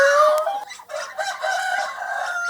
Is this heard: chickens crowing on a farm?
yes